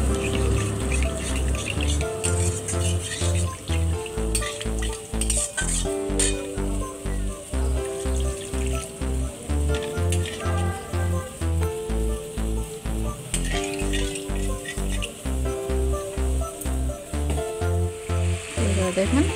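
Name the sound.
water added to fried spice masala, sizzling and stirring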